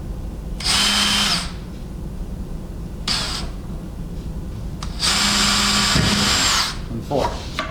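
Power drill boring angled pocket holes in wood, three loud whirring bursts of about one to two seconds each with quiet gaps between them, close up.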